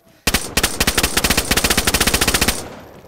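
Rapid automatic gunfire in the survival video game DayZ, a loud close burst of about two dozen evenly spaced shots lasting over two seconds, preceded by a single shot, then a short fading tail.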